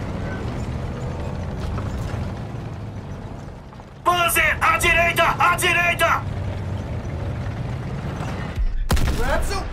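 Gunfire strikes a tank hull in the Call of Duty WWII video game, a dense metallic clattering burst of impacts lasting about two seconds, set against a rumbling engine drone, with a sharp loud hit near the end.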